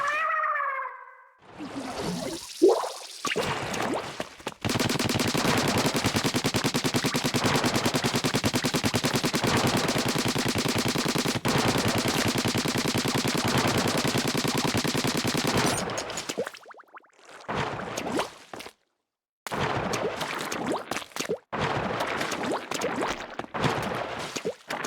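Splatoon enemy Supershot Tank firing ink bullets in a game, loud rapid machine-gun-like bursts in a long sustained volley, then shorter separate bursts after brief pauses.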